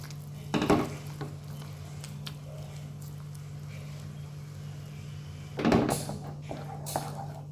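Kneaded chhana drops into boiled nolen gur in a pan and gets stirred, giving two clattering utensil knocks over a steady low hum with quiet scraping between them.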